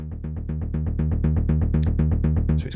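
A bottom-heavy melodic techno synth bass, unprocessed, pulses in a steady run of short repeated notes. It is loud and alone, with little top end.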